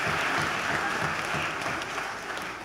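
Audience applause fills a university matriculation ceremony hall, a dense steady wash of many hands clapping for under three seconds, fading slightly toward the end.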